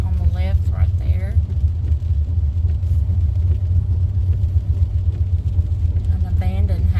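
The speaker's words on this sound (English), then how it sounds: "We're driving" Steady low road rumble of a car driving along a town street, loud and continuous throughout, with people talking over it at the start and end.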